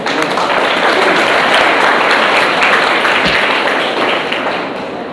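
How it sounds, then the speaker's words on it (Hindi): Students at a government degree college give a motivational speaker's audience-wide round of applause, a loud, dense and continuous burst of many hands that eases slightly toward the end. "तालियां हमारा बच्ची के लिए"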